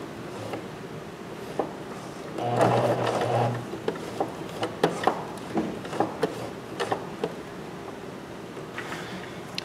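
Sewing machine stitching a dart in a skirt at a short stitch length of about 1, a quiet close mechanical whir in a short burst followed by scattered ticks and clicks.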